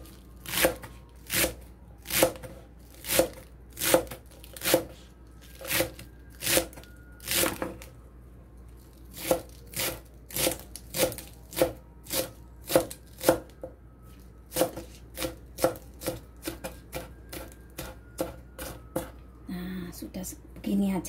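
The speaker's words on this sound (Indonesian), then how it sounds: "Kita potong bawang daun sama seledrinya ya. Dipotong kecil-kecil begini saja." A knife chops spring onion and celery into small pieces on a board, a run of about thirty evenly spaced sharp chops, close and distinct, with brief pauses between bursts and faint talk underneath.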